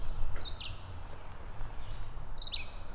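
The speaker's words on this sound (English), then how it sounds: "Birds chirping, a couple cars driving by." Birds chirp beside a spring creek in Pennsylvania, two short bright calls a couple of seconds apart over a low steady rumble of water and distant traffic.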